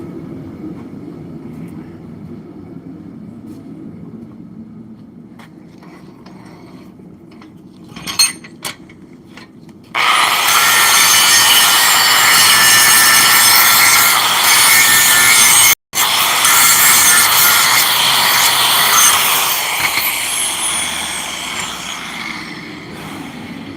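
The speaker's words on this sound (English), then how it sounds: "So I got to go grind that off real fast." Grinding delamination off forged steel at a forge, a loud continuous abrasive roar that starts abruptly after quieter shop noise, briefly cuts out, then resumes steadily.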